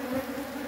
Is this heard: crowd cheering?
no